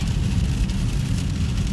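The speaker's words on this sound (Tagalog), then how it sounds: "Grabe ang lakas ng ulan talaga." Heavy rain pouring at a train station, a dense continuous hiss and roar of water with no pauses, loud and close, with no talking.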